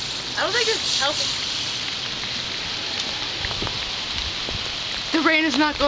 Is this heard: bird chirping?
no